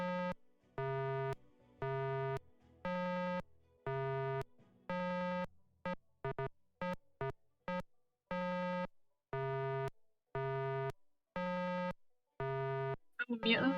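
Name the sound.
unpleasant puzzle tones in the Nancy Drew: The Deadly Device video game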